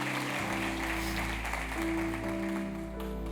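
A church congregation claps steadily together through a worship service, their applause blending with sustained music before a brief louder burst at the very end.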